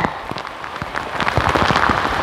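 Heavy rain pelting down in a flood-stricken area after about a week of bad weather, a dense, steady patter of drops close by that builds slightly louder toward the end.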